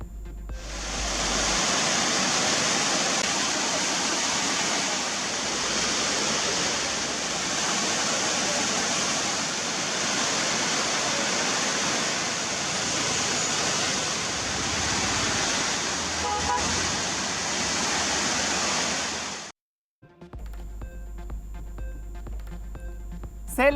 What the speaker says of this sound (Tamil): கொடைக்கானலில் நீண்ட நாட்களுக்கு பிறகு வெள்ளி நீர்வீழ்ச்சியில் ஆர்ப்பரித்து கொட்டிய அருவி.